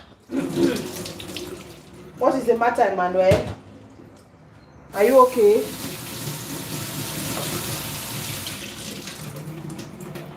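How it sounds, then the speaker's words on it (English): Steady running tap water splashes while bamboo is rinsed for a coconut curry soup. The flow starts partway through and continues to the end, with people talking over it and brief bumps around the kitchen sink. "under running water."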